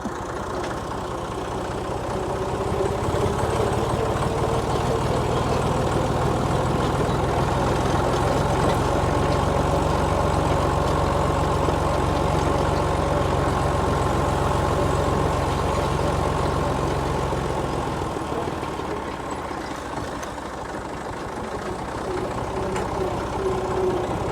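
Massey Ferguson tractor engine idling and running steadily close by, a low, even rumble that holds for most of the stretch before easing off slightly near the end, with no talking.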